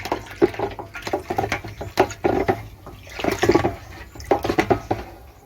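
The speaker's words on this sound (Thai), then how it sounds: "แล้วก็ทำการคนเลย คนให้ กากน้ำตาลแตกตัวนะ" Water and molasses stirred by hand in a half-filled bucket, giving repeated sloshing, swirling surges in an uneven rhythm, close and moderately loud, with no talk over them.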